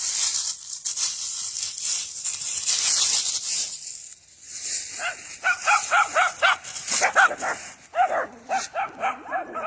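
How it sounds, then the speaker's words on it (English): Several dogs bark repeatedly outdoors on a dirt road, in loud, rapid bursts over steady background hiss, with a voice briefly present. "The dogs running everywhere out here."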